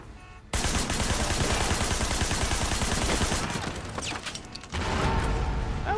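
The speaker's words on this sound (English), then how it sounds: "That's a pretty good explosion." Sustained, loud rapid video game gunfire rattles almost continuously in Sleeping Dogs, broken by a brief pause before another burst, with a rumbling car-explosion texture underneath.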